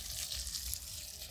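Water sprayed from a hose onto potting mix in an old oil drum used as a vegetable planter: a steady, close hiss and patter with no breaks and no talk.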